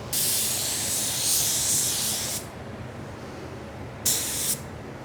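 Jet 5500 spray gun with a 1.3 tip shooting Spies Hecker 5650 waterborne sealer at 25 psi: a loud, steady hiss for about two seconds, then a shorter second burst after a pause, with no talk.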